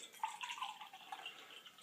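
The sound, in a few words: pouring a cup of water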